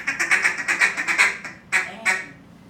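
A duck call mimicking a hen mallard feeding call: a fast, loud run of about ten clipped quacks, then two separate louder quacks after a short pause, close and alone.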